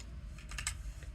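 A brief, close burst of computer keyboard typing, a quick cluster of soft key clicks in roughly a second.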